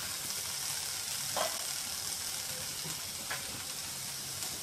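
Sliced bitter gourd frying uncovered in a pan, a steady, moderately quiet sizzle with a couple of faint stirring scrapes, no one talking.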